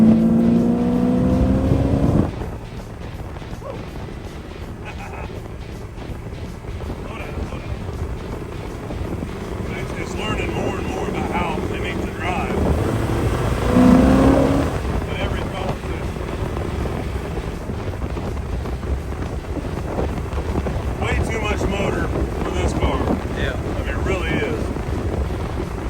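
A 1932 Ford Roadster hot rod running Holley Terminator EFI drives along, its engine droning steadily beneath heavy wind rush, with someone talking over it.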